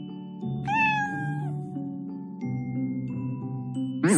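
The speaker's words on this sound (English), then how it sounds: "C is for cat." A cat meows clearly in a children's alphabet lesson, a few drawn-out cries standing alone over a soft steady background, close and moderately loud.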